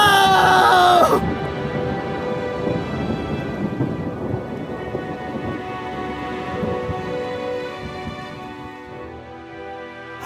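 Heavy rain pours steadily with rolling thunder during a lightning storm, a loud crack and rumble at the start giving way to continuous downpour and distant rumbles, with no talk.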